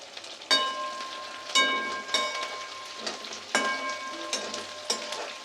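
Curry leaves crackling and sizzling in hot oil for a Telugu bitter gourd curry, with several sharp spitting bursts at intervals over a steady hiss, close and with no voices.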